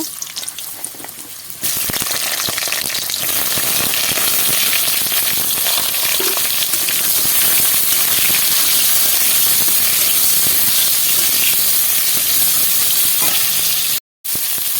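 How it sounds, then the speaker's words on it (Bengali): Pointed gourd (potol) frying in hot oil for a vegetarian Bengali potato curry, a loud, dense, steady sizzle that rises sharply after a quieter start and runs on alone, broken by one brief cutout near the end. "এবার পটলগুলো ভেজে নেব"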